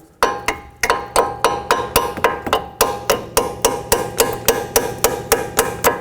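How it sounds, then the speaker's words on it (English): A small hammer punches a stud through a front brake bracket on a Pontiac G6 in a steady series of sharp, ringing metal blows, about three per second, close by with no talk. "take a little hammer and punch this through"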